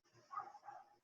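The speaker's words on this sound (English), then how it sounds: "Sorry about the background. It's barking." A small dog barks in the background of a home video call, giving a couple of short, faint yips and woofs in quick succession, alone without talk.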